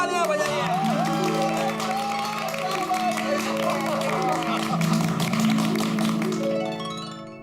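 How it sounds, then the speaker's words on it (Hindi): Loud applause, clapping and cheering from a sitcom housing-society gathering honouring its member secretary, sustained with music-like tones over it for about seven seconds before easing off. "जोरदार तालियां बजाइए"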